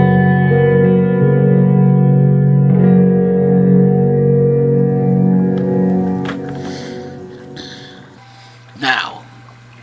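A guitar tone run through a reverb pedal set to two stacked reverbs sustains with a long, washing decay that trails off. A few brief percussive hits follow, and someone talks in the background.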